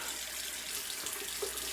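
Water runs steadily from a tap into a sink, a constant close hiss and splash with no voices.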